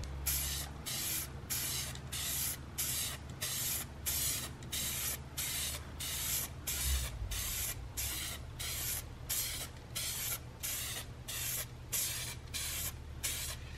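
Spray paint going onto a Mazda Miata, rapid rhythmic hissing bursts from an aerosol can in quick regular passes, close and steady throughout, no talking.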